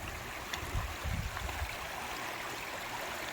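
A river stream flows steadily across rocks during a hike as people prepare to cross it, with a continuous broadband rush and a few louder splashes in the middle.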